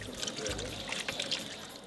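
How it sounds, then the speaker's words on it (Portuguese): Medicinal plant leaves are washed under water, a soft running pour with light splashing and trickles, fairly quiet and close, with no voices. "Primeiro as folhas são lavadas"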